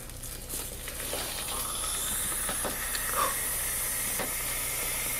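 Steady hissing sizzle as a glowing 1000-degree knife melts into a Rubik's cube, with crackles and small pops over the continuous hiss, fairly close.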